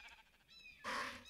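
Sheep in the video game RLCraft bleat twice, a faint nasal call followed by a louder, brighter bleat near the end.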